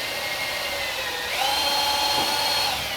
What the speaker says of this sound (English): Drill motor works way better.